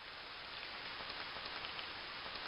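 Steady rain falling continuously, a dense even hiss of drops pattering on a surface, with no voices.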